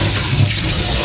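Tap water runs steadily while green vegetables are washed for pancit and sautéed sotanghon, a continuous close splashing flow with no pauses across the short moment.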